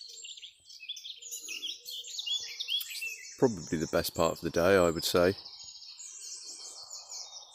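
Woodland birdsong at Loch Lomond at dawn, with robins, song thrushes and blackbirds: bright chirps and trills run throughout, while someone speaks briefly over them midway.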